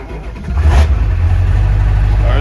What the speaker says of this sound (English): we're gonna do a last fire up before the engine is pulled